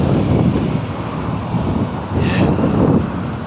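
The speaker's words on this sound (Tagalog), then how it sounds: "mainit pero mahangin Alex" Strong wind buffets the microphone in loud gusts, with a faint wash of surf beneath and no talking.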